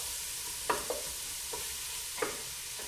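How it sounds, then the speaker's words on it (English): Celery and other vegetables sauté in a pan for fish chowder, a soft steady sizzle under a few sharp clicks of a utensil knocking against the pan, with no one speaking. "And now we play the sauteing game here."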